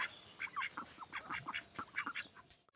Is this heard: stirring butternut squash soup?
no